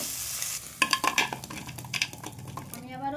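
Crabs frying in a pan with turmeric, a sizzling hiss broken by a run of clattering stirs and scrapes of utensil on metal, with a voice briefly heard at the end.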